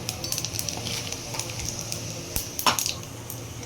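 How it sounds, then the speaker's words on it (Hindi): Cumin seeds sizzle in hot oil in a kadhai with a continuous close crackle, broken by a few light metallic clinks of a utensil. "हमने कढ़ाई में तेल गरम कर लिया है और इसमें हम थोड़ा सा डालेंगे जीरा"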